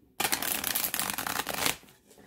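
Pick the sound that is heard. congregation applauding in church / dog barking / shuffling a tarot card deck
shuffling a tarot card deck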